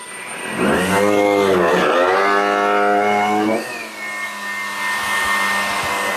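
A Shark vacuum cleaner running over carpet, a loud steady motor whine that rises in pitch and then settles into a constant drone, close by with no voices.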